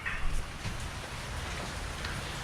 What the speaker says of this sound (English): It's raining in the front and the back.